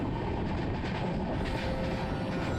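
Steady loud rumble and rattle inside a sleeper train running through India at sunrise, a constant broadband roar of the moving carriage with no voices.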